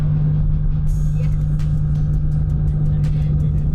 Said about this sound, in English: she's going in the quickest Lambo at Cootamundra ever